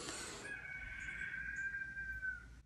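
A rooster crows once at dawn, around five in the morning, with a single drawn-out call that holds steady for about two seconds. It sounds somewhat distant and faint over a quiet room.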